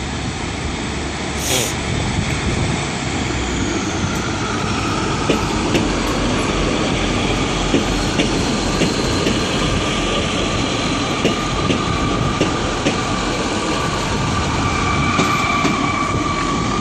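A train pulls away from Exeter St David's station on a Sunday evening, a steady broad rumble of engine and rolling wheels holding loud and close throughout, with faint clatter and a thin wheel squeal riding on top.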